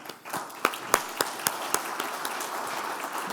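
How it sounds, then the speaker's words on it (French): Applause for the first speaker at a French-language conference plenary on green hydrogen and bioenergy: a handful of sharp, distinct claps early on thinning into scattered, softer clapping from a modest audience. "une bonne main d'applaudissements pour notre premier conférencier"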